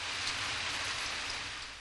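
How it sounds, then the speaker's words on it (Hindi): Steady rain in a Ninja Hattori cartoon, a dense, even hiss of falling water heard alone for a couple of seconds with no voices. "देखो, बारिश हो रही है।"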